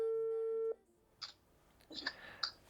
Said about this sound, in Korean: 매일 밤 9시가 되면 아빠는 집으로 전화를 거는데요